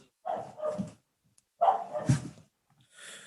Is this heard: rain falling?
no